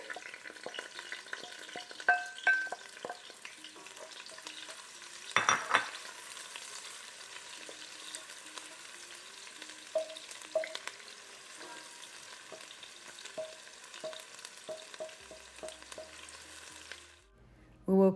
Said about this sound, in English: We will cook the onion for about a minute or so until it is fragrant